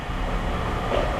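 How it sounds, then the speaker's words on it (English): A train passes close by with a loud, dense rumble that holds steady for the whole moment. "It's a train."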